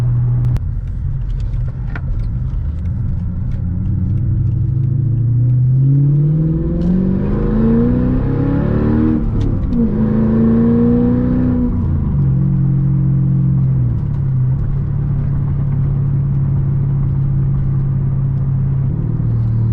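A rare manual-swapped Mercedes E55 AMG pulls hard from inside the cabin, its engine note climbing through revs, holding a loud high pitch, then dropping back to a steady low drone with no voices.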